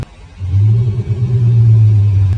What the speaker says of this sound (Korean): 이게 쿠파텍 배기 사운드로 해가지고 액티브 사운드 시스템으로 되어 있습니다